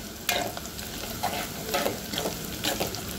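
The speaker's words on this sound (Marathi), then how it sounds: "आता इथे आपला कांदा छान परतून घ्यायचा आहे, हलका सोनेरी कलर येतपर्यंत" Chopped onion with curry leaves sautés in a pan for a Vidarbha-style chunvadi curry, giving a steady close sizzle broken by a few sharp scrapes and knocks of a stirring spoon, with no talking.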